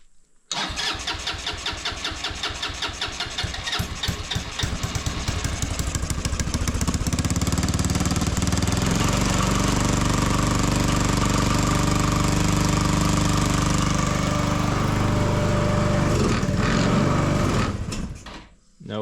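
Small barn-find buggy engine, bought cheaply, cranks with rough sputtering and catches, then holds a loud, steady, throbbing idle close by for about ten seconds before cutting out.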